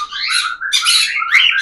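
Cockatiels chirp and call in close, bright bursts, three overlapping phrases of rapid tweets and squawks over about a second and a half, with no voices.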